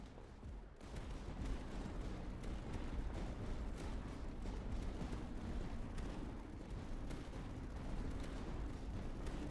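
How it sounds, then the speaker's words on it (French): Successive waves of explosions rumble and crackle in the tower defense video game Tower Dominion, a dense, continuous barrage of booms and gunfire-like bursts that carries on steadily throughout. "Donc il y a 2 vagues d'explosives."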